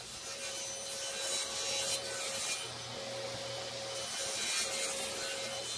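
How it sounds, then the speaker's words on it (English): A table saw rips a thin strip off a wet, not fully dried wood board to remove a bend, giving a steady, close rasping cut that holds evenly throughout with no voices. "I'll set the fence and cut the bare minimum off that I can get away with here to get rid of that bend."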